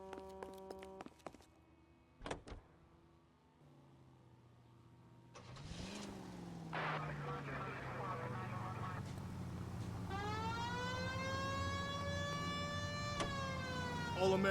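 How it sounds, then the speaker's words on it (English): A police car siren in L.A. Noire rises and wails in steady sweeping tones over a revving car engine, loud and close, following an engine start and a few short clicks. "We have a siren."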